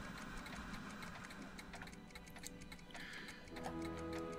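Many clocks tick together in Back to the Future: The Game, a quick overlapping run of regular ticks at a steady moderate level, with a low mechanical hum joining near the end.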